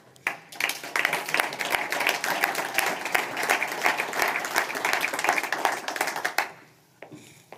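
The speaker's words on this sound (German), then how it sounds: "Auch ihn darf ich mit einem Applaus zu uns bitten." Audience applause at a business dialogue event in Upper Austria welcomes a speaker from the Wirtschaftskammer Oberösterreich, a dense, steady clapping from a seated crowd that swells quickly, holds for several seconds, then fades to a few scattered claps.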